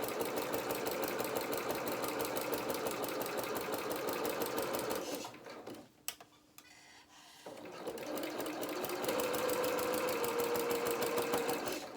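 A sewing machine runs a 1/4 inch seam in fast, even rapid stitching, pauses for a few seconds with small handling clicks, then resumes its steady whirring rattle.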